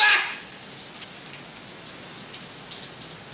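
Steady rain falls and patters continuously on surfaces outdoors, a dense, even hiss of drops with a brief louder splash at the start.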